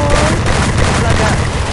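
Continuous dense gunfire in Garena Free Fire, a loud blurred barrage of rapid shots and booms filling the whole moment.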